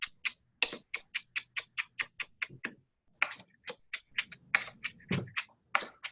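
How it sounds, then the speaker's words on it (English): A knife chops parsley on a cutting board in fast, even taps, close and crisp, pausing once briefly before the rhythmic chopping resumes. "parsley gets chopped finer and finer, I'm going to kind of scrape it into the center of my cutting board"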